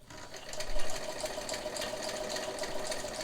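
Vintage Kenmore 158.1752 sewing machine stitching through fabric and dense seams, a steady fast mechanical whirring and clatter from the motor and feed dogs, close and continuous with no speech.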